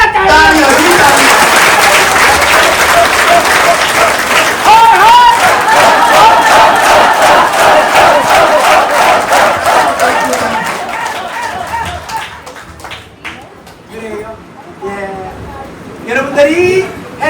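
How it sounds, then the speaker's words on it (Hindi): Audience at an indoor award ceremony clapping loudly and continuously for several seconds, fading into scattered claps with a voice speaking and some crowd noise near the end. "तालियां तालियां, जी तालियां।"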